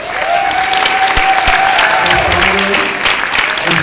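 A large Comic Con panel audience breaks into loud, sustained applause and cheering that fills the hall without pause, the dense clapping steady and close throughout.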